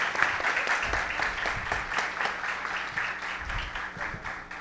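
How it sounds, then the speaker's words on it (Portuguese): An audience clapping at a travel-technology business event, a dense, continuous wash of many hands applauding at a fairly close and lively level. "Eu vou pedir um aplauso para essas feras aqui."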